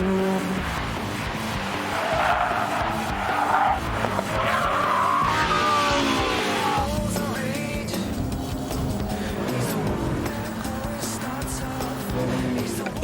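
Car tires skid and squeal during a driving test in the Gran Turismo 4 racing game, with loud, continuous screeching and engine noise that rises and shifts over several seconds, with no talking.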